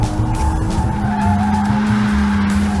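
A BMW E36 with a welded differential drifts, its tires skidding in a loud, continuous squeal over a steady engine drone, close and without a break.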